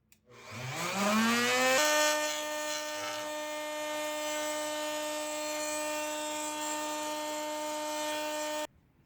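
A power tool whines up to a high steady pitch and runs continuously for several seconds, cutting and drilling into a magnetic spray can holder, before cutting off abruptly.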